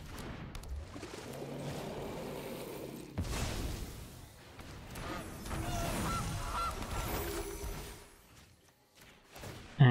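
Honking of the Gilded Goose card in MTG Arena, a series of low, nasal goose-like honks over a few seconds, moderately loud with game sounds, no talk.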